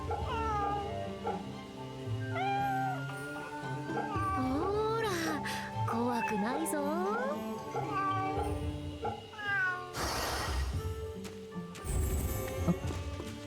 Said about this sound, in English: This one's a calico.